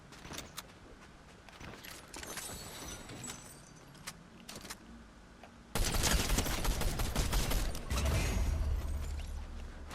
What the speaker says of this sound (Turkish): Üçlü sıkıyor ya.